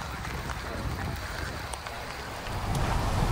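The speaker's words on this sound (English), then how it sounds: "Well, it's raining a lot." Heavy rain drumming steadily on a Kia EV9 electric SUV, a dense continuous patter that swells slightly louder toward the end, with no voices.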